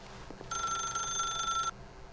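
A telephone rings in the video game The Stanley Parable, a single steady electronic bell trill lasting just over a second, fairly faint against a quiet room hum.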